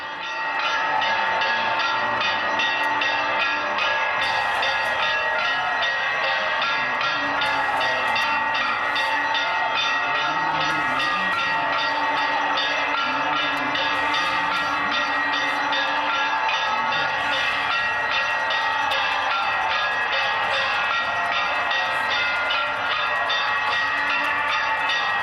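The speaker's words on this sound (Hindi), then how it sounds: "रामलला की आरती चल रही है, शंखनाद की ध्वनि, मंत्रों का उच्चारण" Conch shells and temple bells sound during the Ram Lalla aarti at the Ram temple in Ayodhya on Ram Navami, a dense, continuous ringing and droning that stays loud and steady throughout, with no talk.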